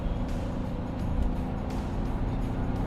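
A 2008 Mercedes-Benz S320 CDI W221 with a V6 diesel accelerating hard to overtake, its engine drone and road noise steady and loud from inside the cabin, with no voices.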